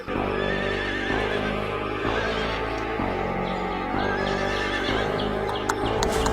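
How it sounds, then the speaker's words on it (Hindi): A horse whinnies loudly in a storybook cartoon scene as its rider, a merchant, mounts and leaves, with a steady clip-clop of hooves beating at a regular pace beneath a dense music-like backing throughout. "व्यापारी उठकर घोड़े पर सवार होकर चला जाता है"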